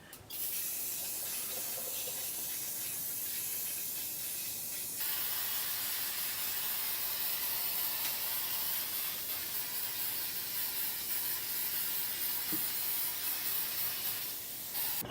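Spray can laying down a base coat for spray paint art, a steady close aerosol hiss that runs almost unbroken, with a brief pause and slight change in tone partway through.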